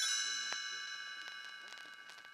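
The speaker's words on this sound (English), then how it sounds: "You will know it is time to turn the page when you hear the chimes ring like this." Page-turn chimes on a read-along Gremlins storybook recording, a bright ringing bell tone sustaining and slowly fading with a few soft struck notes layered over it, clear and close, no speech.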